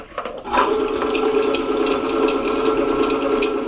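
Food processor grinding pistachios into a praline paste starts up after a brief handling sound, then runs as a loud, steady, buzzing motor whir that continues to the end with no talking.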